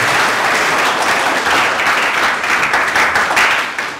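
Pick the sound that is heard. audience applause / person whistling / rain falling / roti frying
audience applause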